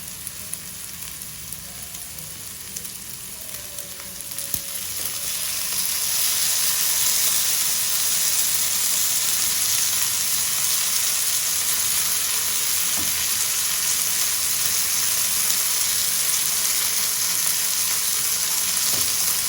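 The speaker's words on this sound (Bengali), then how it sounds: "এবার এই পুরো ব্যাপারটাকেই আমি আবার খুব ভালো করে ভাজা ভাজা করে নেব" Sausages sizzle and fry in a pan with chili garlic sauce for a breakfast dish, the crackle starting softer and swelling to a loud, steady hiss after a few seconds, with no voices.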